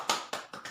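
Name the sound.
spirit clapping by meeting participants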